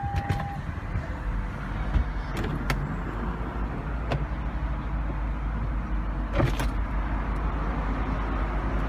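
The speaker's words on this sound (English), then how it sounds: "go ahead and open the roof." The power convertible roof of a 2003 Lexus SC430 runs through its opening cycle, a steady electric motor whir that lasts throughout with a few mechanical clicks and clunks, close by.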